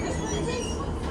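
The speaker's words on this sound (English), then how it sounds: "we are going to take this train back to Parr" A train on the Cornwall line near Newquay rumbles with a steady broadband roar, wheel and rail noise filling the whole moment with no break.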